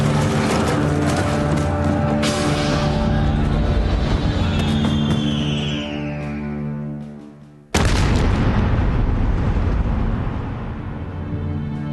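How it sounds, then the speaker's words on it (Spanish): A loud, dense battle soundtrack depicts a cannon shot striking the Peruvian ironclad warship Huáscar, with a descending whistle, a sudden cutoff and then a heavy booming blast that rumbles on. "La torre de mando del Huáscar estalla pulverizada por un disparo."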